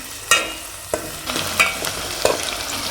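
Onions frying in a hot pan for egg curry, a steady close sizzle broken by four or five sharp stirring scrapes spaced about half a second apart, with no voices.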